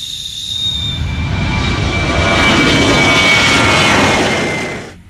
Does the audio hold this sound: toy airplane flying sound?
yes